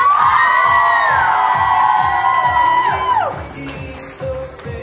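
Wedding guests at a Bulgarian wedding ritual shout and cheer loudly for the bride, a dense crowd roar with whoops and high voices over pulsing dance music, fading toward the end.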